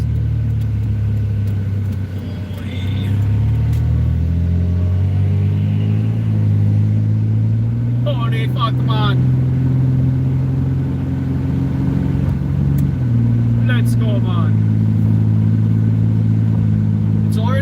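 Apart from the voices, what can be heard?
road traffic, cars passing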